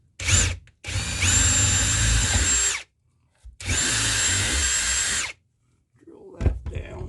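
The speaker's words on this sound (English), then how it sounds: "Let me get my drill." A power drill bores during installation of gates and signals at a railway grade crossing, with two long whirring bursts and a short one, loud and close, and some handling noise at the end.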